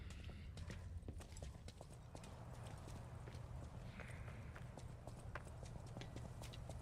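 Donkey in the video game Lies of P clip-clops with steady hoof beats on hard ground, a continuous rhythmic walking pattern, faint and uninterrupted by speech.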